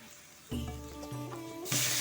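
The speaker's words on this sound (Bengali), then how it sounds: "তেল দিয়ে পেঁয়াজটা দিয়ে দিলাম একটু নেড়ে চেড়ে একটু ভাজা ভাজা করবো" Onion frying in oil in a wok on a stove, a soft hiss that swells into a louder, brighter sizzle after half a second and surges again near the end, with faint tonal hum beneath and no talk.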